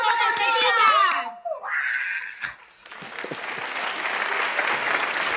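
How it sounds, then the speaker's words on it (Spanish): A studio audience on a Spanish late-night TV show applauds, a broad steady crowd clapping that rises after a host shouts energetically and then carries on alone. "Fíjate que los aplausos cada vez van a menos."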